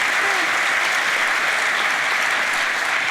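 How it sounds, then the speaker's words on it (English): Sustained audience clapping for a panel at a Black History celebration event, loud and uniform across the whole stretch with no talk over it. "A round of applause for our panel."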